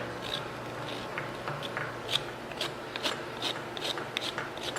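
A goat's hoof is trimmed and ground down along the sides and sole, giving close, repeated rasping, scraping strokes in an uneven rhythm with no talking.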